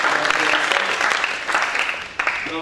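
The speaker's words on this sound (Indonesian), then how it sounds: "Kita tepuk tangan sebagai tuan rumah di tempat ini." Sustained applause from a crowd at an interfaith prayer gathering hosted in a GPI church in Majalengka, a dense steady clatter of hands filling the whole stretch at close range with no break.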